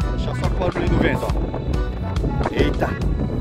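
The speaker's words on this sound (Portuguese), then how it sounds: "Deixa só o barulho do vento" Wind gusts across a sunny beach at Garopaba, Santa Catarina, buffeting the microphone in loud, uneven rushes and rumbles, with people talking nearby.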